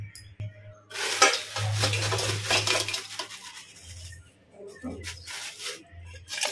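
Pots and dishes clatter and scrape in a home kitchen as a curry is set on to cook, with busy clinking and stirring in bursts, a short pause, then a few softer knocks near the end.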